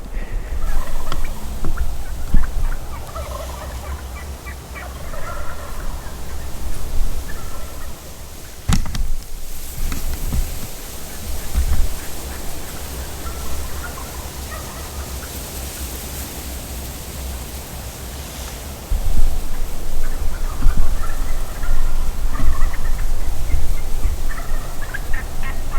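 Wild turkeys gobble on the roost at dawn on Nebraska public land, several distant gobbling bursts rising out of steady outdoor noise, with a louder stretch near the end.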